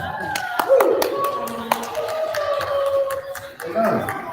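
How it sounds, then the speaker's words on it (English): An audience claps after a Metis jigging and fiddle performance, a burst of scattered hand claps with voices calling out over them and a brief lull near the end. "nice round of applause"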